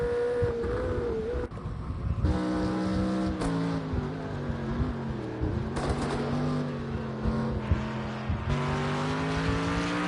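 Onboard a Mercedes-AMG GT3 race car in Project Cars 2 at Long Beach, with a steady loud engine drone that climbs and drops through gear changes, plus light tire noise, continuous and close.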